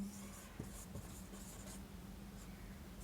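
Marker or chalk writing on a board during a reasoning class on dice, with faint scratchy strokes over a steady low hum, quiet and close.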